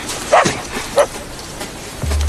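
A dog gives two short, sharp barks about half a second apart, close and fairly loud, followed by a low sustained hum toward the end.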